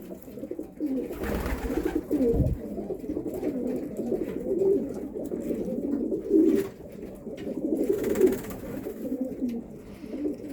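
Racing pigeons in a loft in Szczecin coo continuously in low, throaty rolling calls, many birds overlapping at close range, with a brief thump partway through.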